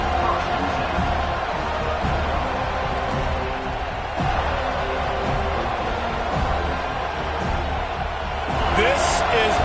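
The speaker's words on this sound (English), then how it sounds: "This crowd ready to make its presence known." A large crowd at a Notre Dame versus Florida State college football game, a dense continuous roar of stadium noise filling the air, with a commentator talking over it.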